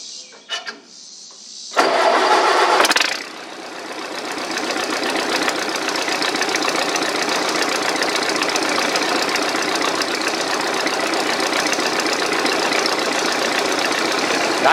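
An old Massey Harris Model 30 tractor with a flathead Continental engine, choked, cranks briefly, catches, roars loudly for about a second, then settles into a steady, rough, close idle that runs on alone.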